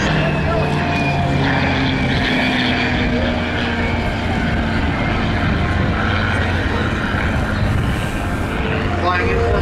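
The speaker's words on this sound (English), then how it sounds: "Flying in formation today is a World War II era P-51 Mustang" A World War II era P-51 Mustang flying in formation with a US Air Force A-10 at an air show heritage flight, a steady loud engine roar sustained throughout, with an announcer's voice over the public address.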